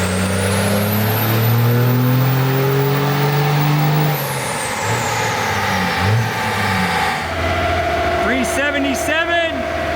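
A 33-year-old turbo diesel pickup truck accelerates hard in fifth gear, its engine and turbo whine rising loudly and close, with a voice talking over the roar.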